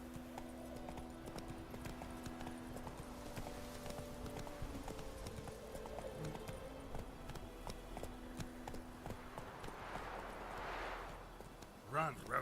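Roach, a horse in The Witcher 3 video game, gallops in a quick, continuous clip-clop of hooves with low game music underneath, ending with a few louder hoof knocks.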